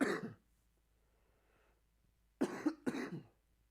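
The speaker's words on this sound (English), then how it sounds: "I might have to stop the freaking podcast to cough." A man coughs wetly and congestedly with phlegm, one harsh burst followed by a pause and then two more close, loud coughs with throat clearing, indoors at a podcast microphone.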